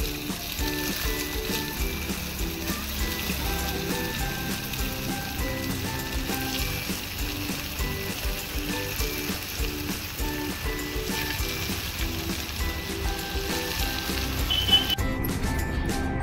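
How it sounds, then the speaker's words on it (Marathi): Rajgira leaf puris deep-fry in hot oil, giving a continuous crackling, bubbling sizzle that holds steady throughout while faint background music plays. "अशाच प्रकारे सगळ्या पुऱ्या आपण तळून घेऊ"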